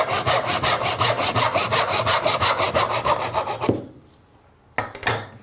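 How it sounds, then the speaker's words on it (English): A hand saw cuts a pine board on a bench hook with fast, even back-and-forth strokes, loud and close, then stops; after a brief quiet, a couple more scraping strokes follow. "get a saw, and cut roughly a 300mm length"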